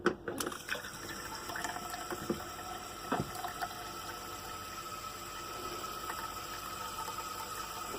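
Water runs steadily from a camper's bathroom hot water tap during winterizing with an air compressor, a continuous hiss and splash with a few sputtering bursts near the start, moderately close and with no talk.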